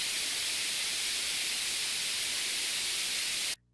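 Steady broadband white noise test signal, a loud even hiss with more weight in the highs, running unbroken for several seconds before stopping abruptly.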